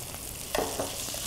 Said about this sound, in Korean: 먼저 달궈진 후라이팬에 돼지고기를 볶아준다.